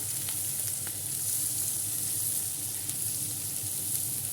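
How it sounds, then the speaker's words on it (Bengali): Boal fish pieces fry in deep oil with a steady, dense sizzle and occasional crackles and pops, close and continuous with no talking. "এটা একটু ডুবা তেলেই ভাজতেছি।"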